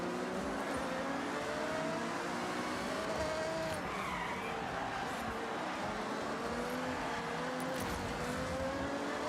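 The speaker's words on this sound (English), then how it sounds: "Car is very zippy." An Aston Martin racing in Forza Horizon 6 sounds a continuous engine note that rises and falls in pitch as it revs and shifts, steady and fairly close, with no talk.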